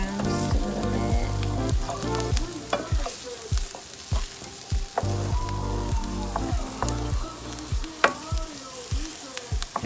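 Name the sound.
onions sauteing in a pan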